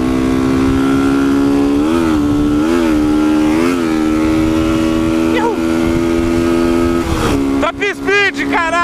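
A motorcycle with no working brakes is ridden on a road, its engine droning steadily and loud up close, with the pitch rising and falling as the rider revs and shifts. A voice shouts near the end.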